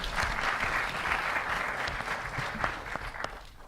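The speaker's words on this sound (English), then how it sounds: "Please give him a round of applause." Audience applause at a Democratic Party gathering in Queens, steady mid-level clapping from a crowd that carries through the whole stretch and tapers slightly at the end.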